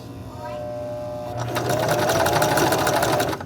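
A sewing machine stitches stretchy headband-type fabric for a scrunchie, its motor whirring steadily and speeding into a dense rapid needle chatter partway through, close and loud.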